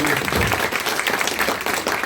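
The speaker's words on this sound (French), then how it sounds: "on les applaudit encore" Audience applause at a dubbing workshop, a steady, dense wash of clapping from a room full of people, close and fairly loud, without a break.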